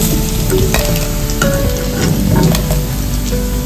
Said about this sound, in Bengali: তেল গরম হয়ে গেছে, পনিরগুলো ভেজে নেব